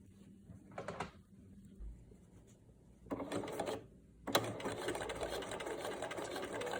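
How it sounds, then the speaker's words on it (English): A sewing machine topstitching a two-color fabric mask, quiet and close, running in short bursts and then a longer continuous whirring stitch run. "I'm top stitching just a scant 1/16 of an inch from the fold."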